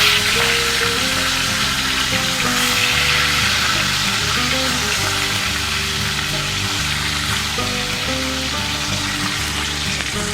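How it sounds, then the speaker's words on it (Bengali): Small pieces of Katla fish rubbed with salt and turmeric frying in mustard oil, a loud, dense, continuous sizzle and crackle that holds steady close by, with no talking. "এবার আমি আস্তে আস্তে ভেজে নিচ্ছি।"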